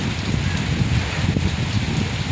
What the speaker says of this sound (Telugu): వర్షం పడేతావున ఎక్కువగా పడిపోతూ ఉంది.